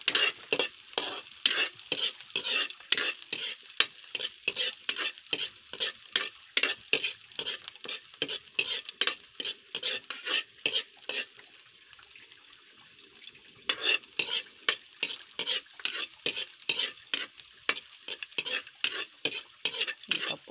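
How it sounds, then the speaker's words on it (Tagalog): Onion and garlic cook in a pan over a wood-fired stove, with a steady sizzle and rhythmic, repeated stirring scrapes, close and continuous, pausing briefly midway before resuming. "Kaya babawangin po natin ang sibuyas at bawang."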